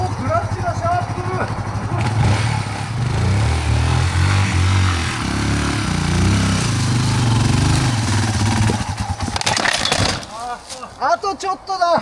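Yamaha Serow 225W and Serow 250 motorcycles climbing a very steep forest road at night, with a close, strained engine drone that rises and falls as it labors uphill, under people talking.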